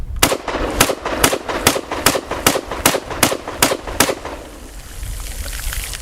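A Yugo SKS M59/66A1 rifle in 7.62x39 fires ten sharp, evenly spaced shots outdoors in a quick steady cadence, loud and close, followed by quieter open-air ambience.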